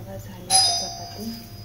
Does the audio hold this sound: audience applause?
no